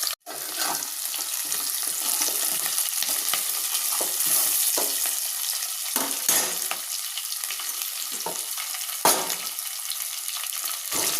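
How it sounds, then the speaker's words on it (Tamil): Chopped onions sauté in a hot pan in a home kitchen, giving a steady, fairly loud hiss and sizzle with a few soft stirring scrapes; nobody speaks. "இந்த வெங்காயம் கொஞ்சம் வதங்கணும்."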